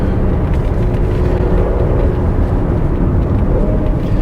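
Mercedes GLC43 AMG in Sport Plus mode, a loud, sustained engine and road roar from inside the cabin as the SUV accelerates hard, with no talk over it.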